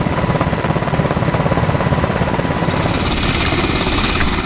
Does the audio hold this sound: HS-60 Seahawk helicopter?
yes